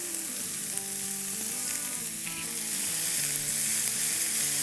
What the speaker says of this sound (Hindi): और इस तेल में डालेंगे थोड़ी सी अनियंस और बेल पेपर।